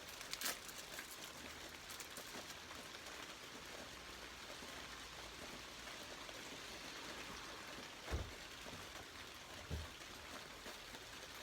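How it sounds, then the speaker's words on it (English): Rain falls steadily outdoors on a rainy Wednesday as a faint, even patter and wash, with a couple of soft knocks near the mic. "It's raining."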